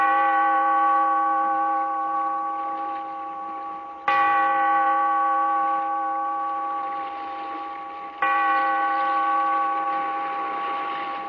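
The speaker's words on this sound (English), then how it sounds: "Bellkeeper, toll the bell, so that all may know we are gathered again" Deep bell in an old-time radio drama tolls three times, each resonant strike ringing out and slowly fading before the next, with no voices over it.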